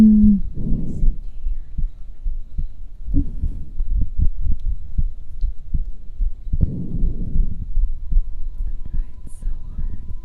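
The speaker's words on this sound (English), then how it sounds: "listening to my heartbeat." Soft, low heartbeat thumps recur through a quiet relaxation stream, close and muffled as if picked up against the chest, with uneven spacing and a few louder bursts of rustle between beats.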